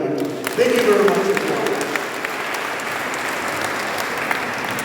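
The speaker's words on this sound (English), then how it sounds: "let us give them a round of applause" An audience breaks into applause, swelling quickly after a brief voice and then settling into a steady, fairly distant patter of clapping that carries on to the end.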